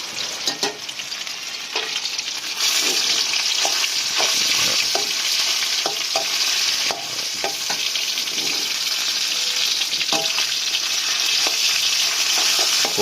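Minced pork stir-fried with garlic, a loud continuous sizzle close by, broken by rhythmic spatula scrapes and taps against the pan, no voices.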